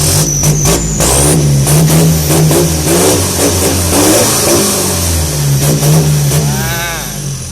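A car with a 1.9-litre engine revs hard through a loud exhaust, roaring up and down continuously, close by, with a sharp whistle near the end.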